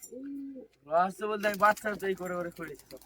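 A low, soft pigeon coo, then a run of throaty, warbling coos close by from Madrasi pigeons at a pigeon sale, with a person talking nearby.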